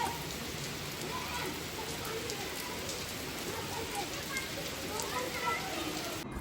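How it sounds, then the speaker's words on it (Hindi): Heavy rain pours steadily outdoors, a dense close patter drumming on surfaces without letup. "बहुत तेज़ बारिश हुई है"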